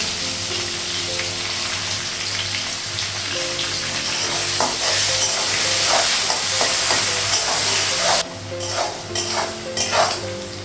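Onions fry in a pan in a home kitchen, giving a dense, steady close sizzle with repeated scraping and clinking of a utensil stirring against the pan.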